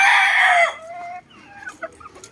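A Boston roundhead gamefowl rooster crows loud and close in one strong call, trailing off into softer clucks and faint bird noises in a pen.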